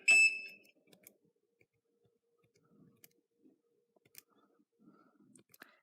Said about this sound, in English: the buzzer beeps are literally out of tune